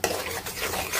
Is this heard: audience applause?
no